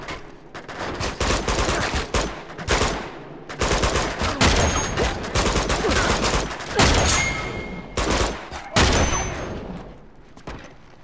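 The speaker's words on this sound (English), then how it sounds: "I'm trying to get him, but he keeps shooting." Sustained gunfire in Uncharted 2: Among Thieves, with loud, rapid bursts of automatic shots firing almost continuously, crowding close together with brief gaps.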